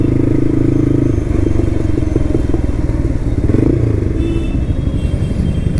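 A Yamaha R15 V4 motorcycle fitted with an Akrapovic exhaust idles and revs nearby, a steady loud engine drone with low throbbing pulses and a few clattering thumps, no talking.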